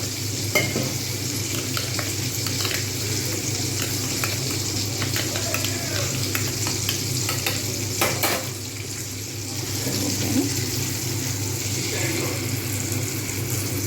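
Mustard and poppy seed spice paste frying in a pan with a little water added, a steady close sizzle and bubbling with stirring scrapes throughout.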